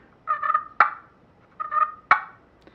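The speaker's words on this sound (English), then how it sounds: "Now for the easy cluck, you heard me do that at the end of some of the purrs." Two sharp turkey clucks from a friction scratchbox call, each preceded by a soft purring trill, spaced about a second and a half apart, close and clear.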